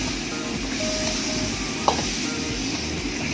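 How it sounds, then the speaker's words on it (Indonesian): Chicken with spices being stir-fried in a pot for ayam rica rica: steady close sizzling and hissing throughout, with a brief utensil clink against the pot near the middle. "kita tumiskan dulu sebentar"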